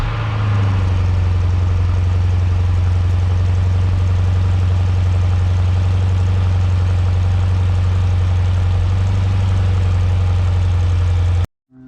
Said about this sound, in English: Cold start 2015 Jeep Grand Cherokee SRT.